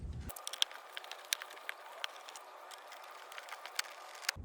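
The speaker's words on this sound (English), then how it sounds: "we're going to hit the 2 Torx screws here with a T15 bit" A T15 Torx bit backs out two screws on a Chevy Equinox during rear shock work. Quiet, irregular ratchet-like clicks sound close up over a faint steady hum, with no talking.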